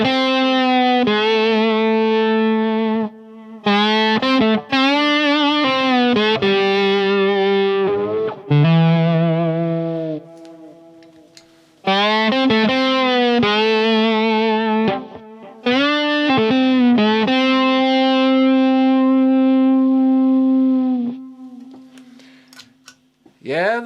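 Electric guitar driven through a Strymon Riverside overdrive pedal, a loud run of distorted chords and riffs with short gaps and sustained ringing notes, played alone.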